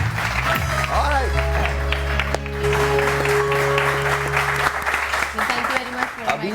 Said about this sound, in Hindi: Thank you very much for अबीर कुरैशी के लिए बहुत सारी तालियां दी।